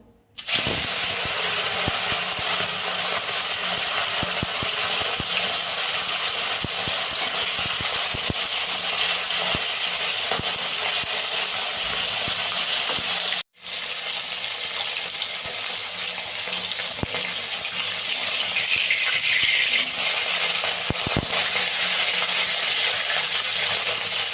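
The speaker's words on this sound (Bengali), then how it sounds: "সর্ষের তেল দিয়েছি তেলটা গরম হয়ে গেছে মাছগুলো ভেজে নেবো" Fish fries in hot mustard oil with a loud, continuous sizzle and hiss that runs almost the whole time. A brief cut comes about halfway through, scattered crackles sit on top, and no one talks.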